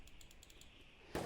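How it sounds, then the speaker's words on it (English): Rapid clicking of computer keys or mouse during play of The Long Drive, a quick, faint, evenly spaced run of taps, followed by a brief louder thump at the end. "Furiously clicking."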